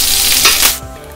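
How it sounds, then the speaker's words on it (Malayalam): Dried red chillies and curry leaves hit hot oil with a bright, steady sizzle that flares briefly, then settles into a quieter crackle as the spices fry in a pan for Kerala-style puli inji. "കൊല്ലമുളക്, അതായത് ചുമന്ന മുളക്, ഒരു മൂന്നാല് ചുമന്ന മുളകും അതുപോലെ കരിവേപ്പിലയും അതും കൂടി ഇതിലേക്ക് ഇട്ട് കൊടുക്കുകയാണ്"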